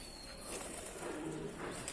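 During feeding on a rooftop, Adana pigeons coo quietly in a low, murmuring flock, with soft rustles and faint wing sounds under a steady background hiss.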